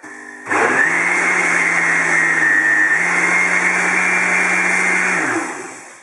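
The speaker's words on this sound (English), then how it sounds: "We want 2 minutes of chopping." A blender chopping greens for a smoothie whirs loudly and steadily for about five seconds, kicking in abruptly with a low motor drone, then winding down at the end.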